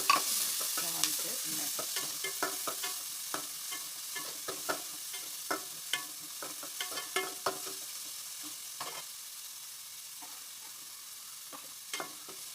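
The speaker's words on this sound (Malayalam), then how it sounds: "ഇഞ്ചി കളർ മാറി ഏകദേശം ഒന്ന് മൂപ്പായിട്ട് സവാള ഇട്ട് കൊടുക്കുക." Onion frying with ginger in a pan for rava upma, a steady close sizzle broken by repeated sharp scraping taps of stirring throughout, with no talking.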